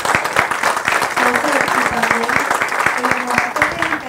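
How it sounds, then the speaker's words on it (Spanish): Sustained applause from an audience, dense continuous clapping throughout with a voice heard faintly over it. "Yo quiero que les den una aplauso."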